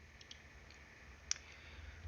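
A computer mouse click while navigating an electronic health record program's flow sheets, a single faint, sharp tick standing out briefly against quiet room noise, with a couple of softer clicks nearby.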